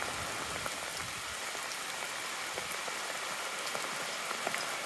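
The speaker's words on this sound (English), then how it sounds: "It's only a bit of rain." Outdoor rain falling steadily, a dense even hiss of drops pattering on surfaces, moderately quiet and continuous with no voices.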